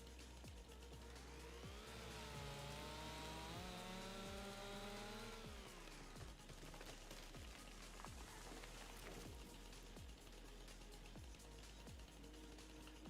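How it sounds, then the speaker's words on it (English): A chainsaw revs and cuts through trees in a forestry survival video game, a loud steady engine whine that rises and falls in pitch, then continues in rough, choppy bursts. "I could put away the chainsaw"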